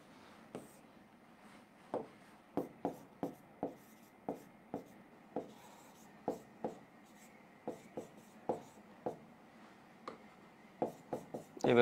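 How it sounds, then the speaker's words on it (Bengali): Pen or pencil strokes on paper during a chemistry lesson, a quiet, close series of short taps and scratches in irregular rhythm, with faint room noise and no talking. "এভাবে লিখলাম"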